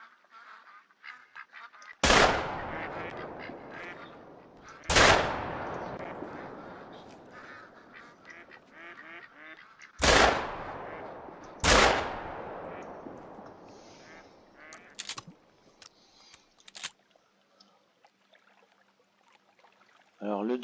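Four loud shotgun blasts ring out in theHunter: Call of the Wild, each trailing off into a long echo, while mallard ducks quack faintly in the gaps.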